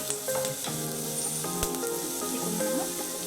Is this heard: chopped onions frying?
yes